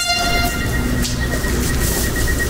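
A train stands at an airport station in Montenegro, its continuous rumble and rail noise steady and loud throughout, with a sustained horn-like tone near the start.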